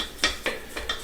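Spatula or scraper dragging around the sides of a mixing bowl of brioche batter, four or five short scraping strokes in quick succession, close and fairly soft, no voices.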